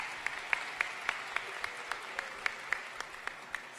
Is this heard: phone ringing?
no